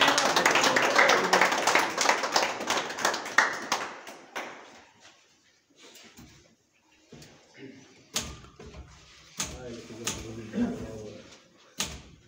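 Applause at a religious brotherhood ceremony changing stewards for the Virgin of the Snows in Tepetlapa, Guerrero, a loud burst of clapping that dies away, followed by scattered knocks and taps with voices talking.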